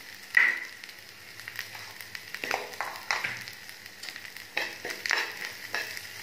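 Spices and chilli powder fry in a pan with a soft, steady sizzle, broken by several sharp scraping stirs.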